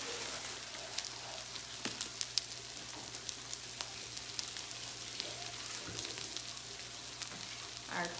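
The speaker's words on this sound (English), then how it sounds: "let's give our head of lettuce a little rinse real quick" Tap water runs over a head of lettuce, making a faint, steady hiss of splashing spray, close and uninterrupted, with occasional small knocks.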